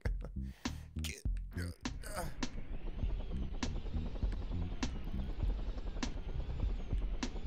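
A helicopter in the video game Totally Reliable Delivery Service drones with a steady low rotor hum and periodic thumps, after a few opening seconds of choppy, broken sound, continuing evenly and moderately loud.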